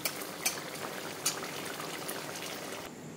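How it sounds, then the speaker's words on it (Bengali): Egg curry is poured from one pot into another, making a faint, continuous liquid pour with a few soft clinks of the pot along the way. "ডিমের ঝোলটা রেডি হয়ে গেছে, এবার আমি অন্য একটা পাত্রে ঢেলে নিচ্ছি।"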